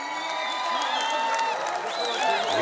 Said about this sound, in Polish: Gwiazdy się wita wielkimi brawami.